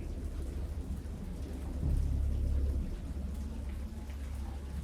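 A thunderstorm rumbles in the VR horror game Dagon VR. Steady rain hisses throughout, and a deep roll of thunder swells in the middle before fading back under the downpour.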